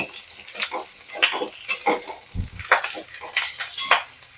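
Four green chilies fry gently in a pan with a soft, crackling sizzle, while a utensil stirs and clinks against the pan in short bursts, close by and without talking.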